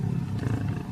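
A big cat lets out one deep, throaty roar that holds for about a second, close and loud, in a Tarzan jungle film where a cheetah is meant to be mating.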